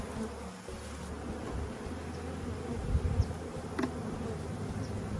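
Honeybees hum in a dense, steady buzz close by around open beehive brood boxes being merged, with a few louder passes of individual bees near the microphone.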